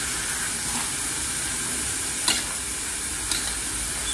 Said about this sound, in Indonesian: ini lagi bikin sambal goreng tahu sama usus ini